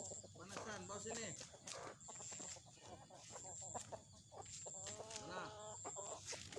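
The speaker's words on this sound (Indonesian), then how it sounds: "ayam banyak banget" Many farm chickens cluck steadily and close by, with repeated calls overlapping against a constant background hum, while a few people talk now and then.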